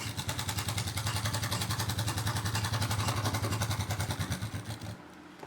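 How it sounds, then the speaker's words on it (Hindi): A sewing machine stitches a straight seam on a semi-Patiala salwar with fast, even mechanical chatter and a low motor hum, running steadily close up before stopping near the end, with no voices. "फिर इसके बाद चलाएंगे मशीन ऐसे और बिल्कुल सीधी सिलाई लगा के ले जाएंगे नीचे तक"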